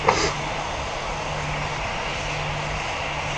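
A small airplane's engine drones steadily and fairly loud while the plane is parked, holding an even hum throughout with a brief bump at the start.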